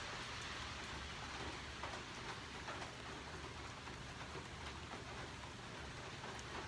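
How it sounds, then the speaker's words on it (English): Warm summer rain falls in a steady, soft, even hiss with faint scattered drip patter throughout, heard quietly and without any voices. "This rain is actually, it feels a little bit warm."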